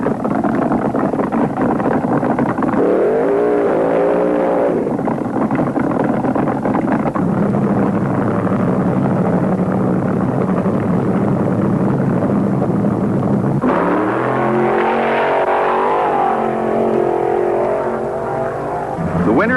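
Drag racing cars from 1973 at the IHRA Northern Nationals in Muncie, Indiana, roaring loudly throughout with rising revs and engine pitch sweeps as they launch, buffeted by wind noise.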